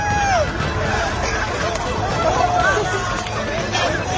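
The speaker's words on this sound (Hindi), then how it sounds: "आसपास भूखों की भारी भीड़ है" A large, hungry crowd packs around a biryani pot, a dense, loud hubbub of overlapping voices with shouts rising and falling throughout.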